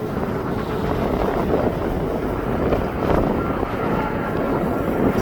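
An aircraft taxis at East Midlands Airport, a loud, steady low engine rumble heard from outdoors, mixed with heavy wind buffeting on the microphone.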